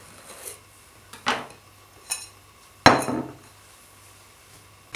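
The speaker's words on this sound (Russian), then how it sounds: "Теперь обрезаем края." A knife trims the edges off a baked cake layer, giving a few separate scrapes and taps of metal against a board or tray, spaced about a second apart, close and fairly loud with quiet between.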